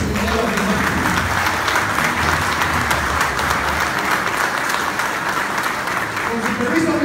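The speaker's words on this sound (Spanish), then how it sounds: "pido un fuerte aplauso" Sustained applause from an audience at an army ceremony honouring teachers, steady and dense throughout with a crowd of hands clapping at close range.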